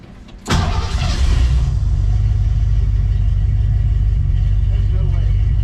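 Ford F100 truck engine cranks and catches with a sharp burst, then settles into a steady, loud, low rumbling idle close by, with people talking over it.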